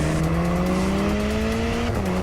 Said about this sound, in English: Put your foot down, baffles in the exhaust open up, and you get that stereotypical Ferrari bark.